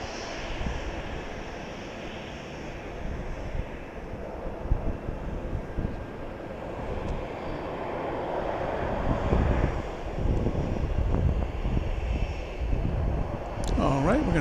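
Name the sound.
Southwest airliner at Dallas Love Field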